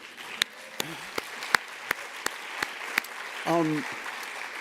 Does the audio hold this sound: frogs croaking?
no